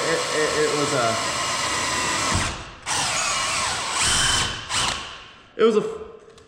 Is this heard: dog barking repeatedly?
no